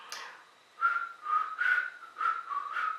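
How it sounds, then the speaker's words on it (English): A person whistles a short run of breathy, wavering notes, several separate bursts with brief gaps, close and fairly soft. "Can you whistle? Little bit."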